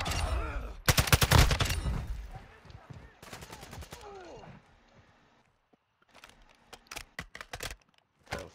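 Call of Duty Warzone gunfire in Al Mazrah comes as sharp automatic bursts and rapid volleys, loud at first, then a quiet lull, then scattered shots and short bursts again, with speech sometimes present.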